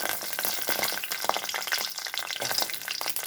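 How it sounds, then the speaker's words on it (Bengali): Bori lentil dumplings fry in hot oil in a pan on a low gas flame, a soft continuous sizzle with faint crackles and light stirring, fairly quiet and without talk. "এখন দিয়ে দেবো বড়িটা। বড়িটা ভালো করে ভেজে নেব"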